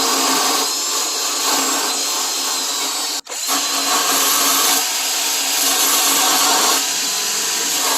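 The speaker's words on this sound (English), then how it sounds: "I'm gonna take my brass brush to remove it." A brass brush working rust off a car door jamb, most likely driven by a power tool, giving a loud steady whirring scrub close by with one brief pause midway.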